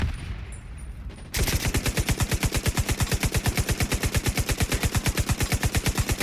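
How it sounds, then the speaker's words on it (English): SMG fire in the shooter video game The Division 2, after a brief quiet moment a sustained rapid burst of evenly spaced shots rattles on loud and close for about five seconds, with no talking. "Here we can do it with the SMG."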